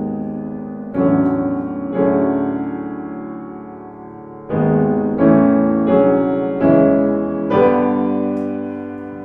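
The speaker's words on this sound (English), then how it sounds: "Kandaules makes his first entry in Act One to the music of Gerger." Orchestral entry music for Kandaules from Zemlinsky's opera Der König Kandaules: rich sustained chords arriving in successive swelling attacks, loud and full, with no talking.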